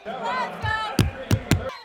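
Crowd cheering and yelling at a wrestling tournament in Des Moines, followed by three sharp, heavy slaps of a hand pounding the wrestling mat in quick succession.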